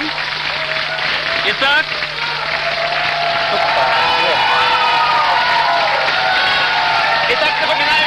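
A television studio audience at a 2002 Ukrainian talk show breaks into loud clapping with cheers and whoops, swelling and holding strong, while a host speaks briefly over the noise.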